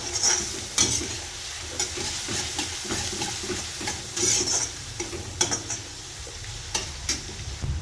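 Restaurant-style chicken chilli is tossed and stir-fried briskly in a hot pan, giving a constant sizzling hiss broken by quick, repeated scraping and clanking stirs.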